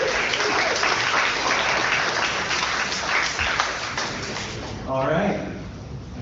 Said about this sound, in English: Big round of applause for all the team.